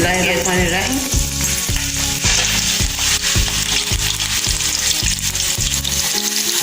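Minced meat balls frying steadily in hot oil over a medium flame, a continuous close sizzle with regular soft stirring or turning pulses throughout.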